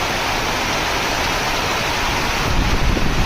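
Strong wind roars steadily over farmland in Gondal during a rainstorm, a loud, broad rush of noise, continuous throughout with buffeting against the microphone and no voices.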